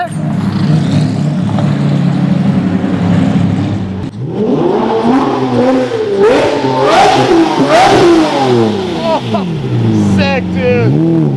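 A Lamborghini Murcielago V12 roars loudly up close, a deep idle-like rumble giving way to surging revs and a rising, wailing acceleration that swells and falls, with excited voices faintly mixed in.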